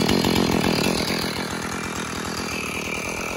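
A chainsaw cutting a tree roars close by with a steady, rattling engine drone that eases slightly after the first second, running continuously with no voices.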